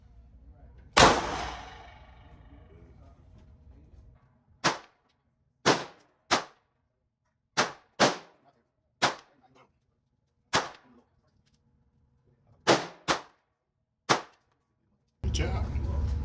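Handgun shots at a shooting range during a training class, about a dozen loud, sharp cracks spaced irregularly, the first followed by a ringing echo, with quiet gaps between.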